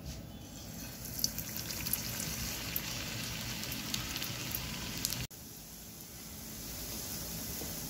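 Veg cheese frankie patty frying in hot oil, a steady close sizzle with crackling spatter that continues evenly and then drops briefly before resuming.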